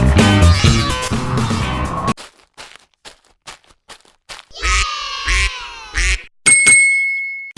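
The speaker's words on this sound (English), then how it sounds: "Duck." A toy duck gives a few loud, nasal quacks in quick succession, coming after a burst of music and some scattered clicks, followed by a short ringing tone.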